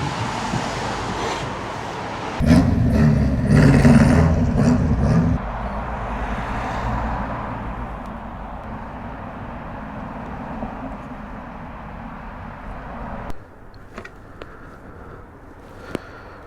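A motorcycle riding on a road on a cold day, heard as a steady rushing drone of engine and wind that surges louder for a few seconds and then settles and fades toward the end.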